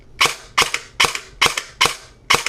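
A G&P Sentry airsoft gun running on a 7.4 volt battery fires six sharp, snappy shots at an even pace. The shots are close and loud, and no one speaks.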